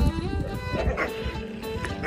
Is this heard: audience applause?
no